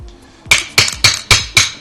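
Metal hammer tapping punch pins to drive out pins on an Echo1 IGOR airsoft gearbox, six sharp ringing strikes in a quick even rhythm, close and loud.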